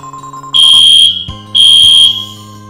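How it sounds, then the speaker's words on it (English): Fire alarm blaring during a live stream, two loud, piercing electronic buzzing bursts with a short gap between them, over quiet game music. "The alarms are still going."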